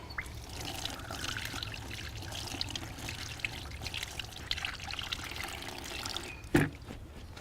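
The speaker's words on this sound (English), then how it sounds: "Squeeze out the excess, and then we can wash this underwater." Paint brush being rinsed under a running tap, with a steady pour and trickle of water filling and splashing in a sink, close and fairly quiet, ending in a brief louder knock.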